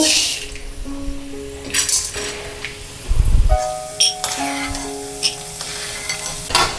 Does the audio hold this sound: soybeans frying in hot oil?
yes